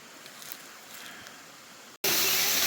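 A waterfall in the outback of the Northern Territory, Australia, is first heard as a soft distant hiss, then abruptly swells into a loud, close, broadband roar of falling water.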